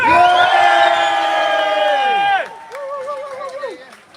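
A protest crowd outside the Russian Consulate lets out a loud, sustained cheer of massed shouting voices that drops off after about two seconds into scattered, wavering whoops.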